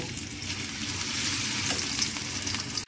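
Grated onion fries in a pan with meat-and-chana-dal cooking underway, giving a steady, close, loud sizzle with faint stirring scrapes throughout and no talk.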